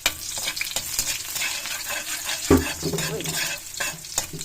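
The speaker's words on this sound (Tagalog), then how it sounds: "Mainit na yung kawali. Ilagay natin yung bawang." Chopped garlic frying in a hot wok while cooking lomi, a steady crackling sizzle with stirring scrapes and a sharp clatter midway, under a brief exclamation from a voice.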